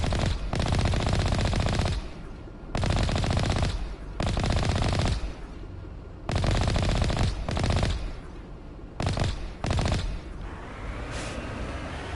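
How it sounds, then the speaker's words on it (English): Automatic gunfire in Mass Effect: Legendary Edition, loud bursts of rapid shots broken by short pauses, several volleys over about twelve seconds, with no talking. "Let's go shoot some thorium creepers."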